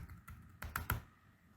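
A few quick keystrokes on a computer keyboard as a password is typed, three or four distinct clicks spaced unevenly, close and fairly quiet with no talking.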